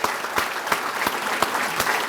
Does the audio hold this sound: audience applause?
yes